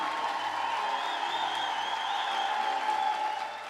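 A congregation claps together at a church service, a dense, sustained wash of applause from a crowd, steady and loud throughout.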